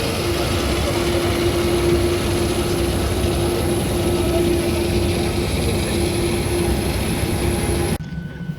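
Steady broadband engine roar inside a Belavia Boeing 737-800 airliner on the ground, a constant loud rumble with a faint tonal hum, cutting off abruptly near the end.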